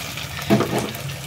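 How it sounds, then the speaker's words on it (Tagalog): Water is poured into a cooking pan while a dish is being prepared, a brief splashing burst near the middle that quickly settles into a softer trickle against quiet kitchen background. "Ito na nga, lagyan na nga natin ng tubig."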